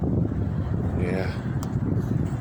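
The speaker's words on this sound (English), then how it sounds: "The wind is breaking this tree apart." Strong, extreme wind roars and buffets the microphone outdoors beside a storm-damaged tree, a loud continuous low rumble with no break.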